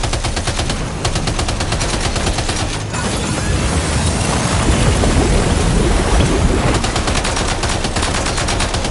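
Gunfire at targets in the Death Stranding 2 game, rapid loud automatic bursts running nearly throughout, mixed with a rushing, wave-like background roar.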